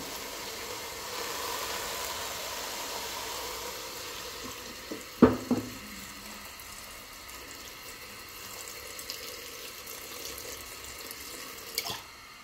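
Water poured into a pot holding cut tomatoes, turmeric and drumstick leaves for rasam, a soft steady trickle with a couple of brief clunks of the vessel, no talking.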